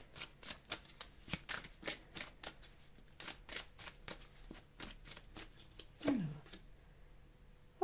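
Tarot cards are shuffled for a reading, with a string of crisp, riffling card snaps in quick irregular bursts, close and quiet, followed by a brief rustle and a soft knock at the end.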